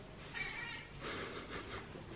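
A small white cat gives a few soft, drawn-out meows close by, faint against a quiet indoor background.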